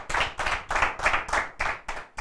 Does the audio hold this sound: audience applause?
yes